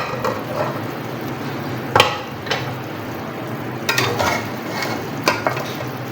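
Boiled mutton stock is poured into sizzling masala in a pot for degi-style mutton pulao and stirred, giving a steady bubbling hiss broken by a few sharp spoon knocks against the pot.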